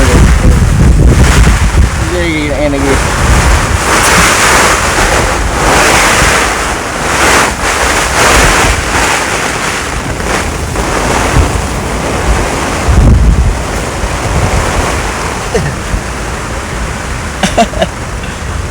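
Storm wind gusts and roaring surf batter a rocky fishing coast at Gunung Kidul, Jogja, in the rain. Loud continuous noise swells and buffets the microphone, and people talk briefly.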